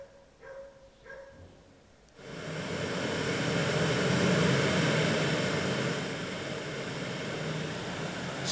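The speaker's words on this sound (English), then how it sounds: "See, this is white noise." A Bluetooth audio receiver with amplifier plays white noise, a broad steady hiss that starts abruptly after a couple of faint earlier sounds and holds at an even level to the end.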